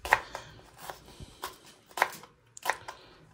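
Knife chopping an onion into small pieces on a board, with a few crisp, separated cuts spaced irregularly, close and moderately loud.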